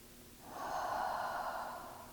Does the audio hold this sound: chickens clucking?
no